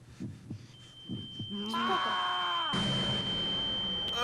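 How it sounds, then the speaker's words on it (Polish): Heartbeat in the horror game Garry's Mod: Undying, a few low thumps at first, then a swelling hum and rumbling game sounds take over, with speech over it. "słyszysz No te bicie serca?"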